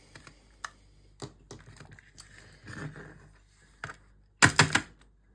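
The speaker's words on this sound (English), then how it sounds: "So take off the screws on here" Small screws being unscrewed from a game controller with a tiny screwdriver, a series of soft close-up clicks and scrapes in short bursts with a louder rattle near the end, no speech.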